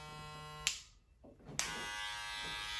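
A corded Wahl Senior electric hair clipper hums with a steady, close buzz that cuts off briefly and then starts again.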